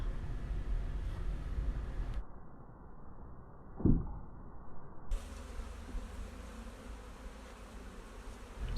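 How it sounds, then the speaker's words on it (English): Honeybees buzz in a dense, agitated hum around a hive after their queen has been dropped during requeening, a steady close drone with a brief louder swell partway through. "it seems that the bees are now responding fairly frantically"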